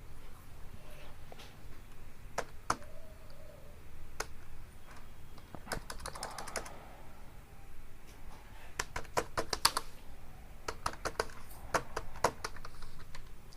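Fast, irregular tapping on a computer keyboard as a PAN number is typed in, with bursts of closely spaced keystrokes and short pauses between them, heard alone with no talking.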